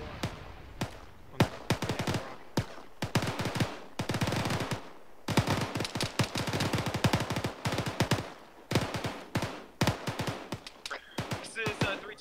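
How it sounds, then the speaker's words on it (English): Rapid bursts of automatic machine gun fire during military platoon training, dense volleys of sharp cracks repeating in irregular strings across the whole stretch, with radio voices talking over the shooting. "Give us some suppressive fire so we can get to the east, southeast side of you, over."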